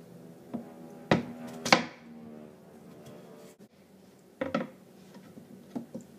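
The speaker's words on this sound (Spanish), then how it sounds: "Picamos la papa." A knife chopping peeled potatoes on a cutting board, a few sharp, irregular knocks spread out with quiet gaps between them.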